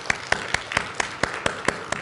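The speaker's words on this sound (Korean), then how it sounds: "우리 환영하는 마음으로 우리 박수해 주셨으면 좋겠습니다" A church congregation claps steadily at a Sunday worship service to welcome a new volunteer, eight evenly spaced, fairly loud claps in a regular rhythm with no one talking.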